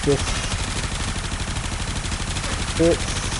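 Supra Vandal gunfire in the video game Warframe against corrupted heavy gunners, a continuous fast automatic stream of shots at even loudness, with a couple of short tonal game effects near the start and end.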